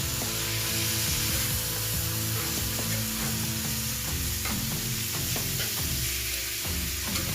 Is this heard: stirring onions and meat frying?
yes